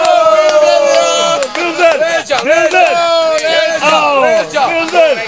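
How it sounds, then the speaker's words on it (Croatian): At a kids party, a crowd of children shouts and cheers loudly and continuously. High excited voices overlap in rapid bursts, close up. "Ajde, navijajte vi, navijajte ostali."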